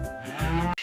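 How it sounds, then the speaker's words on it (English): A single cow gives one short, close moo, loud and alone, ending abruptly. "It's a cow."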